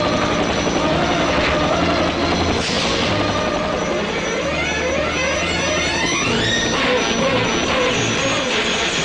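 A helicopter comes in to land, its rotor chopping and turbine whine loud and steady throughout, with the pitch shifting audibly as it descends nearby.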